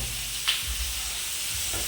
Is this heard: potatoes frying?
yes